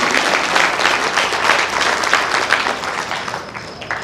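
Congregation at a Jain religious discourse applauding in a sustained, dense burst of many hands, fairly loud at first and easing slightly toward the end, with no talk over it.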